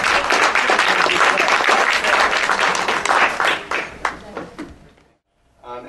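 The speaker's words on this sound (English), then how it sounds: "Let's give them a little round of applause." Audience at a panel discussion on New Hampshire freedom applauding, a dense burst of clapping from a room full of people that thins out and fades to silence after about five seconds.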